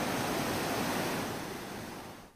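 Swollen, flooded Sina river water rushing at Solapur, a dense roaring wash of broadband noise that stays loud, then tapers off at the end.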